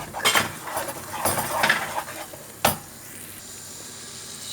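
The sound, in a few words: meat sauce cooking and stirred in pan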